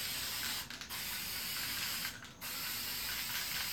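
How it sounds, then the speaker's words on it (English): A can of spray gesso hisses onto hot glue in a continuous loud spray, broken by two brief pauses. "I'm going to take the spray gesso and spray the hot glue."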